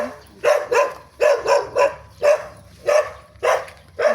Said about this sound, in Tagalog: Ay, may aso, maingay.